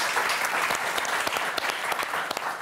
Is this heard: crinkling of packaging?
no